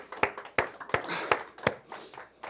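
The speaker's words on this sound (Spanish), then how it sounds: "Un aplauso para el Eterno, entonces." A church congregation applauding, heard as a handful of sharp, fairly soft hand claps in an uneven rhythm, close together, with no talking.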